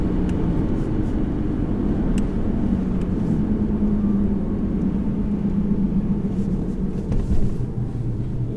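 A manual-gearbox Aston Martin V8 Vantage Roadster 4.7 drives along, giving a loud, steady low engine rumble from inside the car with faint ticks and clicks over it.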